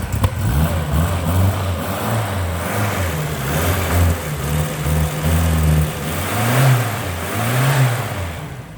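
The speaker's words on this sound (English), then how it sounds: "Let's fire her up again." A stone-cold 1968 MG 1300 engine runs close by, its mid-pitched note swelling and dropping through a series of blips of the throttle over a steady idle, with no voices.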